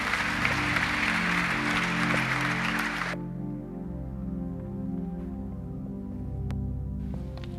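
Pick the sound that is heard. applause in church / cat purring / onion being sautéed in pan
applause in church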